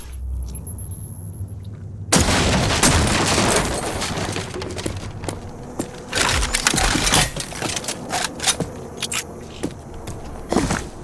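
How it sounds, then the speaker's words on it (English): Repeated explosions and gunfire in the video game Rage 2, loud dense booms and blasts following one another with little pause after a quiet opening. "Oh, it's still exploding here because it's still technically there."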